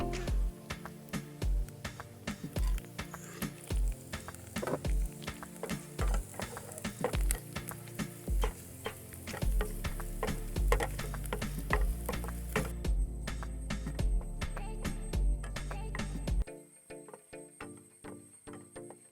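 Lentils (parippu) sizzle and crackle in hot oil with mustard seeds in a Kerala kitchen pan, with dense popping and spattering bursts throughout that drop away sharply near the end, leaving a quieter fizz.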